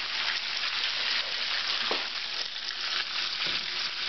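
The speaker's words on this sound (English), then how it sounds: "Stir it. Gently." Albondigas meatballs frying in a pot while being gently stirred, a steady close hiss and sizzle of hot oil throughout, with a couple of soft scraping stirs breaking through, no talking.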